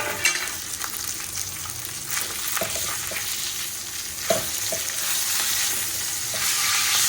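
Large pieces of fish fry in a pan with turmeric and green chillies in a home kitchen, producing a steady, close sizzle with occasional sharp clinks and scrapes from stirring.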